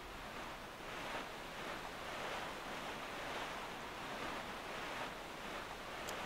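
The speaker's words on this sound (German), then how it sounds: "Und lauschen dem sanften Wellengang." Gentle ocean waves while sailing the open sea in The Legend of Zelda: The Wind Waker HD, a soft, steady wash of surf and wind, faint and continuous with no voices.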